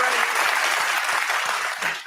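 A burst of applause from a group, steady clapping with a few scattered hand claps and a voice briefly audible underneath.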